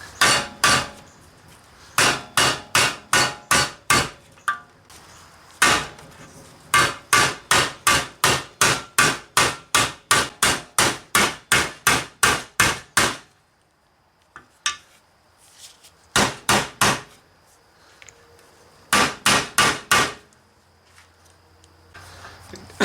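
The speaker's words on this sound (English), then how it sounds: "I just about finished hammering it in." Loud metallic hammer blows land in fast, even runs of strikes, broken by short pauses, then a few shorter bursts of hammering near the end, as a wheel bearing is driven into place on a 2002 Mitsubishi Lancer using an old bearing.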